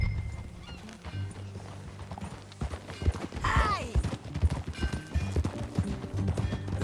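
Horse hooves clip-clop at a steady riding rhythm in the Red Dead Redemption 2 Western game, with a horse whinnying midway and a voice calling out briefly over the hoofbeats.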